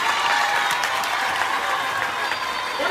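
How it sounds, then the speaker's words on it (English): Schoolchildren clap for themselves during a school visit, a loud dense crowd of hands beating steadily for about three seconds with a faint murmur of voices underneath. "I beg you to clap for yourself."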